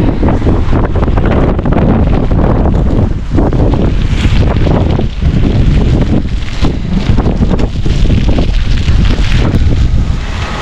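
Powerful monsoon wind in hill country blasts the microphone nonstop, a heavy low roar with uneven gusts rising and dipping over several seconds.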